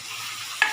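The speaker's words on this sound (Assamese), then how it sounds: "এনেকৈ মই প্ৰায় 5 মিনিটমান সময় ভাজি লম আলুখিনিৰ সৈতে মাংসখিনি" Chicken and potatoes fry in a pan with a soft, even sizzle, and one brief scrape or clatter of stirring comes near the end.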